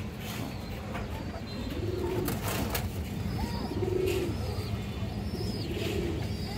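Pigeons kept for sale, among them a female with red eyes and a black tail, give three soft, repeated coos spaced about two seconds apart, fairly close, over a steady low background noise.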